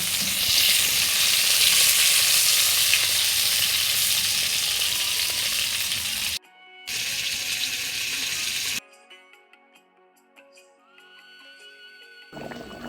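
Pointed gourd fries on a clay stove while meat cooks on gas nearby: loud, close, continuous sizzling, then a sudden cut to a quieter stretch with faint clinks and background sounds, and another brief burst of sizzle.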